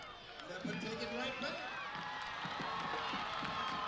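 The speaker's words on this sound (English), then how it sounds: "And the crowd is cheering." Crowd at a high school football game between Murphy and Blount cheering and shouting in a stadium, a sustained roar of many voices with some excited yells, heard at a moderate distance.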